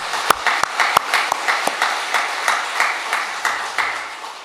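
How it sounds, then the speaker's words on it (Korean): A church congregation applauds its Sunday school teachers with steady, rhythmic clapping, about a dozen evenly spaced claps at moderate volume in a reverberant hall, heard without speech. "뜨거운 감사와 존경의 마음을 담아서 박수로 격려합니다"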